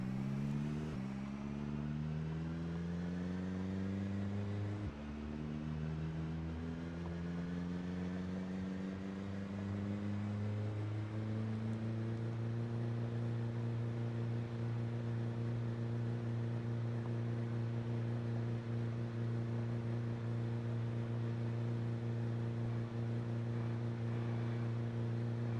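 Car engine in a zombie video game, a steady droning hum whose pitch climbs in steps early on, then holds at a constant level, continuous and fairly loud with no talking.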